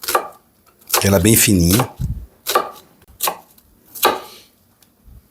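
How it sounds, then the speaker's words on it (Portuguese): A knife chops onion into brunoise on a board in a few crisp, separated bursts of cutting taps, close and clear, with a person speaking briefly in between. "Vou agora cortar a minha cebola."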